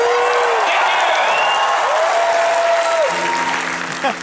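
Audience applause with some cheering rises for improv performers at a Knott's Scary Farm announcement event, a steady wash of clapping that continues throughout while sustained tones run underneath.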